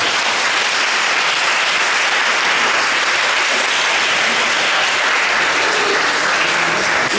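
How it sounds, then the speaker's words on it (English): A festival audience at a Shakespeare drama festival gives a loud, sustained round of applause for the participating schools, a dense, even wash of clapping from the whole hall with no voices over it. "give one more applause for all the participating schools."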